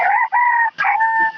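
A rooster crows loudly and close by, one drawn-out crow broken into a couple of strained, held segments with brief gaps between them, and no other sounds.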